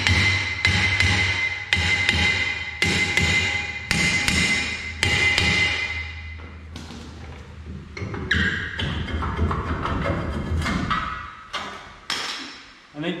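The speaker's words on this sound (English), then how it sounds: "you can just get a hammer and go ahead and pound around on it" Loud, close hammer blows pound a Ford F-150 brake rotor again and again in an uneven rhythm, ringing sharply against metal.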